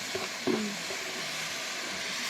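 Rice goes into a hot pot on a home gas stove and sizzles with a steady hiss, preceded by a couple of brief clinks and stirring noises up close.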